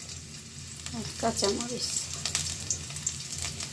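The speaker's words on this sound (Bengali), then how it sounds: "তেলটা গরম হয়ে গেছে, পেঁয়াজটা ছেড়ে দেব।" Onion sizzling as it hits hot oil in a pan, a steady quiet frying hiss with a few stirring sounds, while someone speaks briefly over it.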